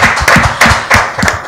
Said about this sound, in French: Et ça mérite même des acclamations.